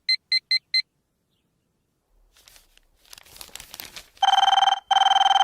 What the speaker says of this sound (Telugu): అబ్బా, ఈ ఫోన్ చంపేస్తున్నా.